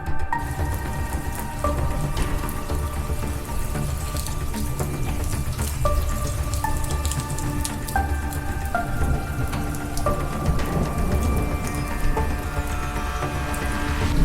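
A summer storm in Europe, with small hailstones and rain pattering densely and steadily on surfaces nearby. The sound is a continuous loud spatter with no voices.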